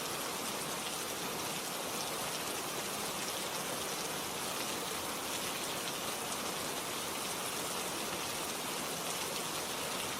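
Steady, dense rain pours down evenly and continuously without a break, filling the space with a constant hiss of drops striking surfaces, with no voices or other sounds.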